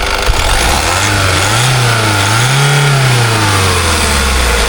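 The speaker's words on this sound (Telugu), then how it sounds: "ఒకసారి రేస్ చేయవా, అలానే మీకు రేస్ చేసి కూడా చూపిస్తాను" A 2019 Honda City diesel engine revs up twice from idle, the pitch rising and falling smoothly in two close, loud swells before settling back to a steady idle.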